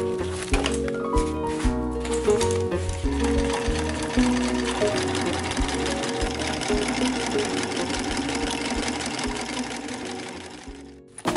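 A sewing machine stitches together the fabric layers of a compressible packing cube, its fast rhythmic needle chatter running steady and close for several seconds and then stopping.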